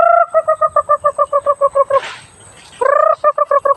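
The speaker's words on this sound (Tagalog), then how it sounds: "May mga dami pa tayong mga manok" Chickens on a backyard farm plot among papaya and banana plants give rapid, rhythmic clucking calls: a quick run of evenly spaced notes, a short pause, then another burst, close and clear, with no talking.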